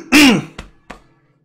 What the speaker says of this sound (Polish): sorry, że tak chrząkam